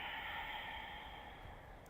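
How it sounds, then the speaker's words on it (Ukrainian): Steady, drawn-out hissing ujjayi yoga breath, soft and continuous, with no voices over it. "Шипляче, розтягнуте дихання."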